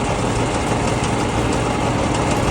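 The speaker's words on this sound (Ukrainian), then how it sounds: "генератор пропрацював пів години" A small petrol engine of a homemade 220V generator runs steadily nearby, a loud, constant droning hum with no pauses and no talking.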